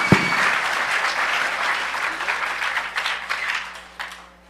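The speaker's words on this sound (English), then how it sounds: "Give him a huge round of applause right now" Audience applauding a speaker introduced at the 2600 The Last Hope hacker conference in 2008, a steady wash of clapping that holds for several seconds and fades out toward the end.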